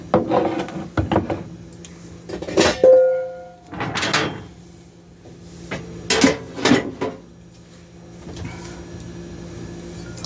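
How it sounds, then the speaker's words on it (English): A saucepan and dishes handled in a home kitchen while pasta is cooked: several sharp clanks and knocks of cookware spaced irregularly, with quieter handling between and a few louder bangs, no talk. "Clean saucepan."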